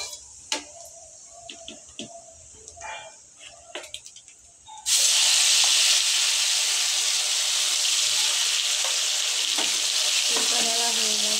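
Ground taro (kochu) paste hits hot oil with black cumin, and a loud, steady sizzle suddenly erupts and continues under stirring after a few seconds of light clicks and clatter.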